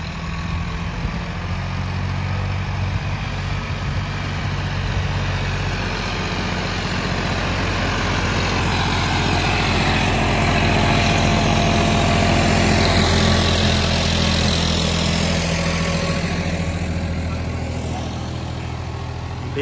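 A John Deere 5210 tractor with an upgraded engine rumbles steadily throughout in second gear, a deep continuous drone with a slight rise in intensity midway, close and loud.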